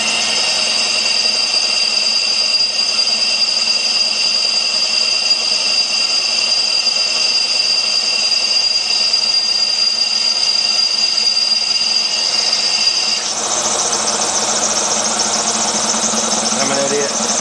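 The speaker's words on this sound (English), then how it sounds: "I guess that's the check valve air moving through" Air moves through the check valve of an air compressor with a steady, loud mechanical hum and a constant whine. The sound holds unbroken and close, then shifts in tone near the end.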